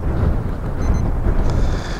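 Continuous gusty wind noise buffeting the microphone, a loud low rumble throughout with a few faint high tones in the background.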